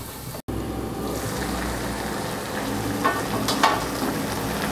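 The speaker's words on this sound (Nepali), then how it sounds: "हेर्नुस् त टमाटर पाकिरहेको छ।" Tomatoes for a Nepali tomato pickle cook covered in a pan, giving a steady, close sizzle and bubble with a few louder spits near the end.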